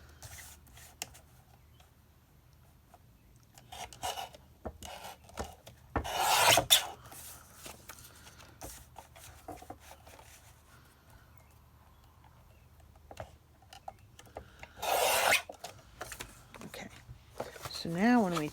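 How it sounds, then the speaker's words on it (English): A small studio paper cutter slicing paper while a junk journal is made, heard as intermittent rasping scrapes and two louder, longer cutting strokes against a quiet room, with occasional faint handling noise. "Go get my cutter. This is my small studio one. And let's cut this."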